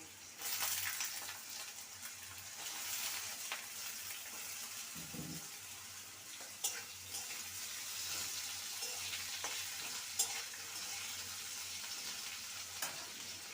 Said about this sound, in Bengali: এখানে একটা মিডিয়াম সাইজকে আলু ভাজার মতন কেটে নিয়েছি ভালো করে ভেজে নেবো